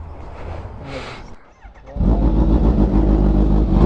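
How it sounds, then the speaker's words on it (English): A Kawasaki Ninja H2 motorcycle engine blips and rumbles, then roars up into a loud, deep, sustained rev from a throaty aftermarket exhaust, at night, with faint voices early on. "This bike is so loud."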